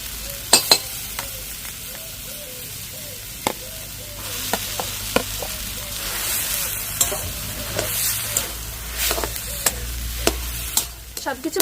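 Boiled potatoes being stir-fried with a semolina mixture in a little oil, with a steady soft sizzle under repeated scraping and clacking strokes of a spatula against the pan, fairly close.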